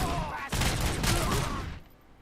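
A burst-fire shotgun in the Robocop video game unleashes a dense, loud volley lasting just over a second, then cuts off sharply.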